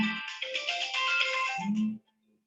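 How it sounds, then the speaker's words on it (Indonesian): A phone ringtone plays loud and close, a bright electronic melody lasting about two seconds before stopping abruptly, with no talking over it. "Bentar, saya ini ada telepon."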